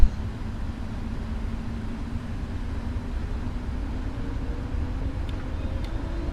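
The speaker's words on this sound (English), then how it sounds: "Throttle's going up." A steady, loud low rumble of airliner engines under power holds throughout while lining up for departure from Toronto on a FedEx cargo flight in Microsoft Flight Simulator, with no voices over it.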